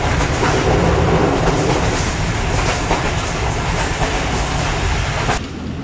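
The Mehr Express, a private passenger train running from Multan to Rawalpindi, rumbles loudly along the tracks with steady clickety-clack from the wheels as it nears Muzaffargarh railway station, easing slightly at the very end.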